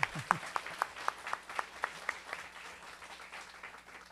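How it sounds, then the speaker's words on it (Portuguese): A small audience at a food security commission session applauds a speaker named Mariana, with quick, rhythmic, separate claps that are fairly sharp at first, then blur and fade into a soft patter. "Agora, palmas para a Mariana."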